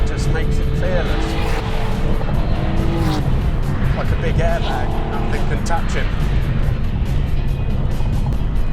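A Porsche 930 Turbo is driven hard, its engine note rising and falling with brief tire squeal, while people talk over the car noise from inside.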